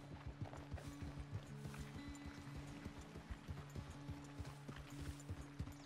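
Steady clip-clop of horse hooves at a quick, rhythmic gait in Red Dead Redemption 2, with faint creaking tack, fairly close and continuous.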